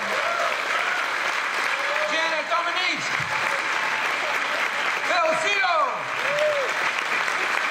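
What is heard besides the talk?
audience applause for the panel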